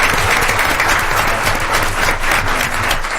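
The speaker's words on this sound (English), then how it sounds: "let's clap for that, that's a great accomplishment." Sustained applause fills a school board meeting room, a dense, loud wash of clapping that stays even throughout.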